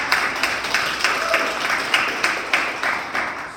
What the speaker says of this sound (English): give Sharon a round of applause.